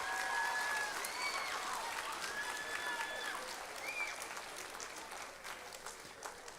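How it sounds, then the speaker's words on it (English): A school audience applauds at a fifth and seventh grade spring band concert, a soft, steady wash of clapping from a distance with a few whistles and cheers rising above it, tapering slightly toward the end. "So how about a nice round of applause for all those wonderful folks."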